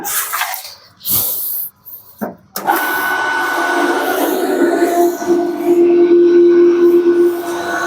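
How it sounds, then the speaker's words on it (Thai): An Emaux SB15 1.5 hp swimming pool pump starts after a few knocks and handling sounds, settling into a steady loud motor hum with a whining tone. "จากนั้นเราจะมาลองเครื่องกัน สตาร์ทปั๊มกันครับ"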